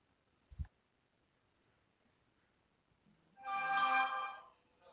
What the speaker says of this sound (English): The phone just starts going off now.